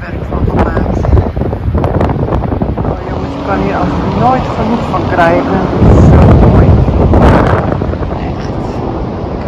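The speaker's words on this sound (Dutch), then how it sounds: "Ik hou zo van het strand en de zee." Strong wind buffets the microphone at a North Sea beach, with waves and surf rushing underneath throughout and a gust swelling loudest near the end, while someone talks over it in Dutch.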